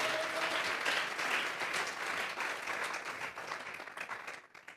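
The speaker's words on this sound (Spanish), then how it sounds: "Vamos a regalarle ofrenda de palmas al Dios de la gloria." A church congregation claps together in sustained applause during a sermon, the dense clapping steady and loud through most of the stretch before thinning out near the end.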